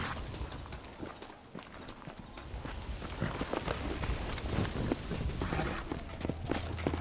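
Horse hooves in Red Dead Redemption, a run of clip-clopping steps at a steady trot, moderately close but fairly quiet against background game ambience.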